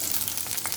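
Chopped onions sizzle in hot oil in a kadai while a Telugu-style vegetable curry is being cooked, a brief, steady hiss with no talking.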